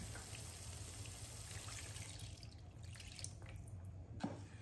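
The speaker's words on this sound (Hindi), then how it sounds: "चलिए इसमें पानी डाल देते हैं।" Water is poured into fish curry masala frying in a pan, giving a steady low trickle and splash over the background sizzle, with faint drips near the end.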